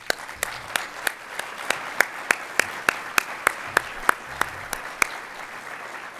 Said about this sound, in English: Please join me in giving them a well-deserved round of applause